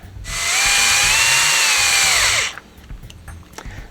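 A power screwdriver drives a screw into an RC buggy during a Losi TLR 22 build, giving one loud, close, steady whine of about two seconds that winds down at the end, followed by quiet handling noise.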